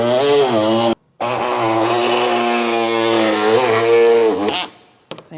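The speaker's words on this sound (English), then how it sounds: "I'm going to cut it across the back, and I'm going to cut this side open" Power saw cutting a Goldwing motorcycle fender for a trike kit install: loud, close, continuous whining buzz with a brief break near the start, the pitch wavering as the blade bites, then winding down.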